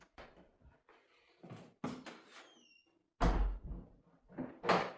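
The door to the kitchen of a rented house in New Zealand opens with a few knocks and clunks, followed by a louder bump and a squeaky scrape near the end.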